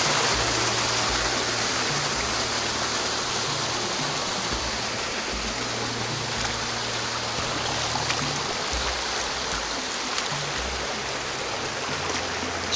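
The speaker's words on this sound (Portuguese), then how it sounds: "Cascata de Mil Fontes das Furnas." Cascata das Furnas waterfall near Vila Nova de Milfontes, Portugal, fed by irrigation water: steady, broadband rush of falling and flowing water, close and continuous, with no voices.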